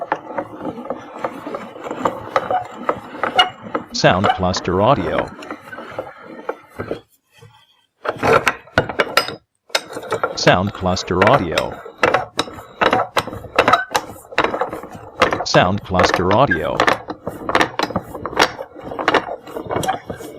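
Carpenter's wooden vice being worked, with repeated ratcheting, creaking and grinding screw turns in bursts, close and loud, broken by short pauses, and a voice repeating a brief phrase.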